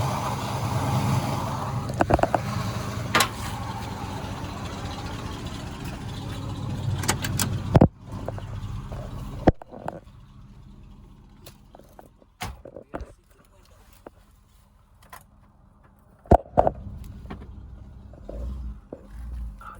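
A car engine idles and rumbles nearby, then quiets to a low hum, broken by a few sharp clunks and knocks.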